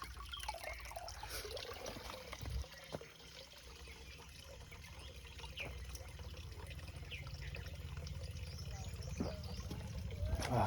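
Local well water trickles steadily outdoors on the way to Ulleri near Pokhara, a soft continuous flow with faint background noise and a few brief knocks.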